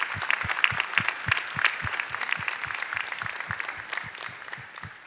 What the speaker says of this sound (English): So let's give our families a nice round of applause.